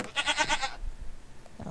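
A goat in the video game Minecraft gives one loud, close, wavering bleat that lasts under a second, followed by quiet background noise.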